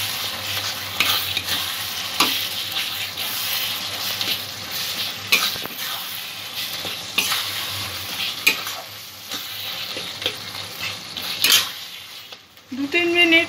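Chicken is sautéed with spices in a pan for Bengali-style chicken ghugni, giving steady sizzling broken by repeated scraping strokes of a spatula against the pan, close and loud, with a brief clatter of cookware near the end.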